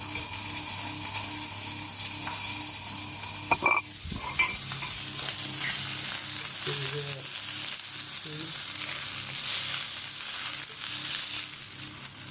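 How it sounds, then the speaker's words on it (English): Chicory sizzles and caramelises in a hot pan with a constant bright hiss. A clattering knock sounds early, and soft scrapes and gurgling bubbles follow. "So I can hear that slightly changed tone the way it's cooking"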